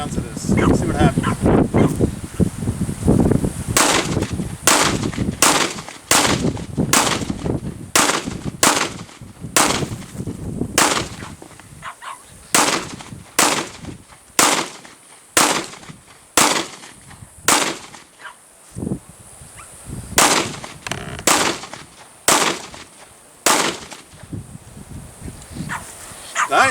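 A rifle fires about eighteen sharp, loud shots at a watermelon in an irregular rhythm, some in quick pairs and others spaced apart. Talk and rustling come before the shots.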